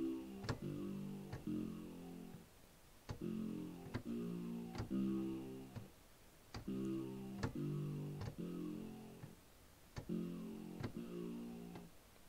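Sawtooth patch from the Vital synthesizer repeating a bouncy riff of short harmonic chord hits with crisp transient clicks, phrased in regular groups with brief gaps between them.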